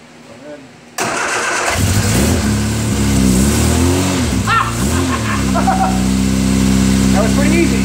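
A 1972 MG Midget engine cranks and fires after a second of quiet, then settles into a loud, steady idle with several rising revs and falloffs; voices talk over it near the end.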